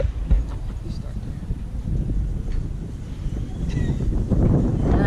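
Gusty wind buffets the microphone outdoors after leaving a museum in Guadeloupe, a steady low rumble with bursts throughout.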